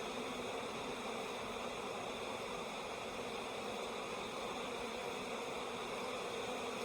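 Honeybees buzz around hive frames in a continuous, even, faint hum with no breaks or voices.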